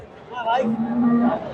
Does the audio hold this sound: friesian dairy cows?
yes